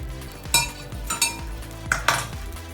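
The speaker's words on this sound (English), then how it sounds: "So in with the veggies, pan back onto the heat." A stir fry pan with vegetables is set back on the heat and worked with a utensil, producing a few distinct metallic clanks and scrapes against a low background hum, fairly close and quiet.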